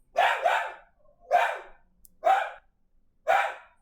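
A dog barks close by in a loud, irregular series: a quick double bark, then three single barks separated by pauses, with no other sound in between.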